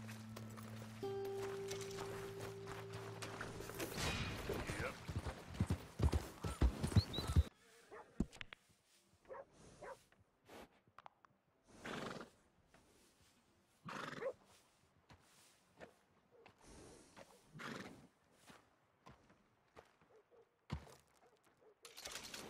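A horse in the Red Dead Redemption 2 video game whinnies loudly over music, then hooves clop in scattered bursts with short snorts and movement sounds, fairly close.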